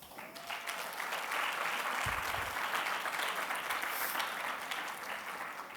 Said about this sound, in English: I want to give a round of applause to all of the attendees today.